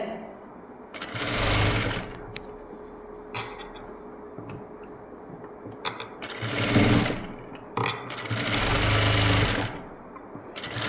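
A sewing machine stitches a lined blouse a quarter inch from the edge in three loud bursts of rapid whirring separated by pauses with faint handling clicks, no speech over the stitching.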